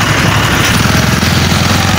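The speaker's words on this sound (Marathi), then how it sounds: "लई ट्रॅक्टर पिसायला लागलाय." Tractor engine running loudly in a field, a close, steady, rumbling drone with a continuous low throb and no break or change in pace.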